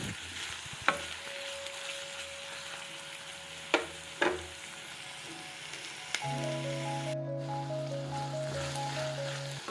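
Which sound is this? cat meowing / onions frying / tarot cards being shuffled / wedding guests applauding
onions frying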